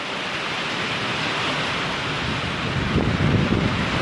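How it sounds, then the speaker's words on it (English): Strong wind roaring during a severe thunderstorm, a continuous broadband rush buffeting the microphone, growing louder and gustier toward the end, with no voices. "The winds are picking up now."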